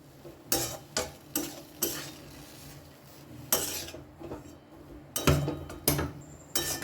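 A spoon scrapes through a potato filling for aloo paratha mixed with chopped coriander leaves. Several distinct stirring strokes come in uneven bursts over a faint background sizzle.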